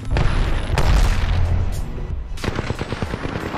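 A grenade blast in the Apex Legends video game, a heavy booming burst at the start that rolls on for about two seconds, then gives way to quicker gunfire cracks and rumble, with no talk over it.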